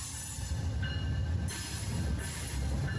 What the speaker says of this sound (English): Oh, that's an Amtrak.